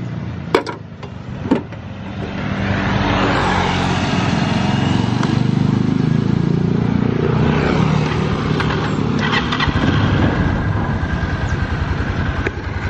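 A 2019 Viar three-wheeler motor cart engine cranks with a couple of sharp knocks, then catches and runs at a steady, loud, rough idle close by for the rest of the span.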